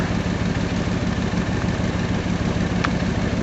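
A 1965 Ford tow truck with a 4-speed transmission and 2-speed axle idles steadily up close, its low, even engine rumble continuous throughout with no talk.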